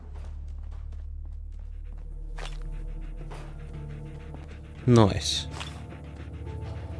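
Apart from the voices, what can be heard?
dog panting in video game Fallout 4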